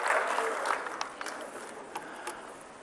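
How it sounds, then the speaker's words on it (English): Audience applause at an African youth summit closing ceremony in Addis Ababa: a burst of crowd clapping that starts strong and gradually thins out, with a few scattered louder claps and faint crowd noise behind. "A big round of applause."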